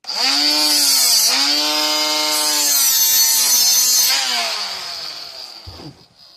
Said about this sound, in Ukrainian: я візьму болгарку